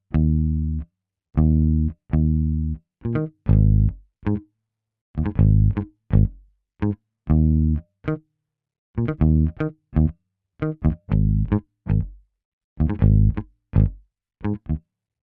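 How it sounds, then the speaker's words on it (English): A sampled Rickenbacker electric bass plays a choppy riff of short plucked notes in rhythmic bursts with brief gaps, clear and up front with no other instruments. "I'm using this SCARBEE RICKENBACKER bass,"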